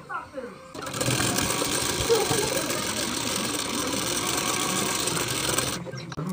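A sewing machine stitches a strip onto a blouse, running in a steady fast whirring rattle for several seconds after a brief start, close up, with a short stop and some talk around it.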